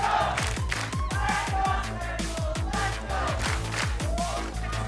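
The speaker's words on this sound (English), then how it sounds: "And the crowd comes to life." An esports arena crowd roars and cheers during a Valorant Champions Tour match, a loud, sustained wash of voices with rhythmic pounding beats throughout.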